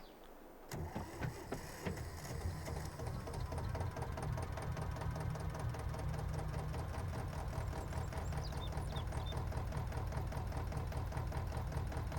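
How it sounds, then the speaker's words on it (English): A tractor engine in Farming Simulator 22 starts with a sudden onset, then runs with a steady, knocking diesel rhythm and a low throb. It stays close and constant for about twelve seconds, with no talking. "But the best thing from a tractor noise is this thing."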